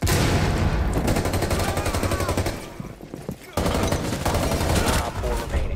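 Heavy gunfire and a frag grenade blast during a Rainbow Six Siege match, loud and continuous with dense bursts of shots, a brief drop in the middle, then renewed rapid firing.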